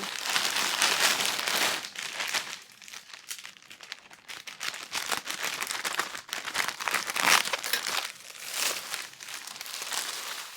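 Parcels shipped from China are torn open and unpacked up close, with loud, irregular crinkling, rustling and tearing of plastic packaging that continues throughout without speech.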